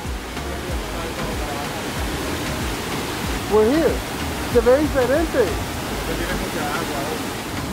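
The Salto de Jima waterfall in a Caribbean rainforest in the Dominican Republic roars as a constant, loud rushing wash of water, while people talk briefly over it.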